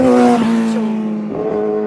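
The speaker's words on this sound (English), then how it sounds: "Motorbike." A motorbike revving loudly close by, its strong steady engine tone dipping and rising again over about two seconds, heard alone in a parking lot.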